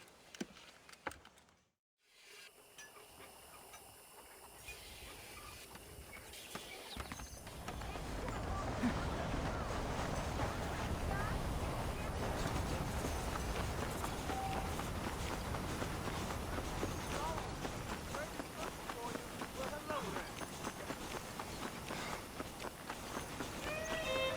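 Saddled horses clip-clop across open ground in Red Dead Redemption, a steady irregular patter of hooves that grows louder after a brief silence and continues under a faint background.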